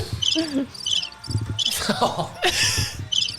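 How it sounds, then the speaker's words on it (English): A cricket chirping sound effect plays as short, evenly repeated bursts of high pulsed chirps, with voices talking and laughing over it. "I just saw crickets and assumed it was the cricket sound."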